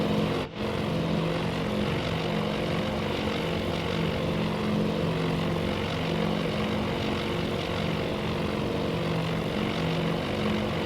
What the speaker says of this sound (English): So many bombers, look how many there are.